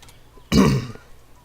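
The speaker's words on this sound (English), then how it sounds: "Clear my throat again." A single rough throat clearing from someone working on an engine build in My Summer Car, short and close, with quiet room noise before and after.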